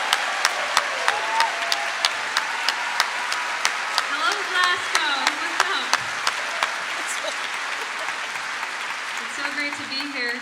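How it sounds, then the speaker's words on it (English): Audience applause for a singer at a Glasgow gathering, starting with slow rhythmic clapping that thickens into scattered applause, with people talking and cheering over it. "Give her a big round of applause."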